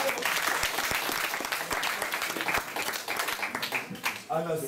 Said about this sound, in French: On peut applaudir, hein.